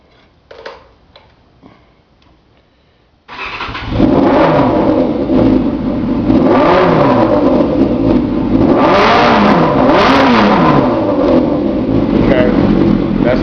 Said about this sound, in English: It's a sound check for the Yzf 600R.